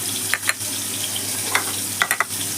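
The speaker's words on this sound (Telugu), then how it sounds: "మంచిగా కాకరకాయ ఫ్రై అవుతున్నాయి" Bitter gourd frying in a pan gives a steady close sizzle, with a few sharp scrapes and clinks of a stirring spoon scattered through it and no voices.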